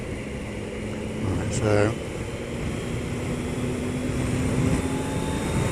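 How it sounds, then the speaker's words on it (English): A motorcycle in third gear accelerates toward 60 mph, its steady engine drone and wind rush running continuously beneath a brief spoken phrase. "We'll get the bike up to 60 mile an hour in third gear"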